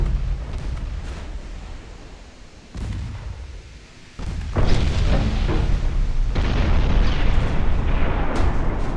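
Battleship naval gunfire and shell explosions from the naval warfare game Ultimate Admiral Dreadnoughts, with heavy booming blasts that build into a dense, continuous roar of rumbling explosions, loud and without speech.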